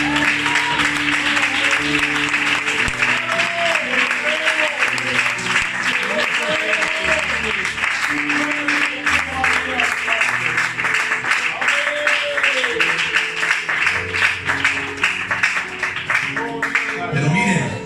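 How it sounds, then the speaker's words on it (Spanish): Sustained applause from a church congregation during a Spanish-language sermon, dense and steady for the whole stretch, with music playing underneath and the clapping thinning out at the very end. "rompe con el mejor aplauso de tu vida"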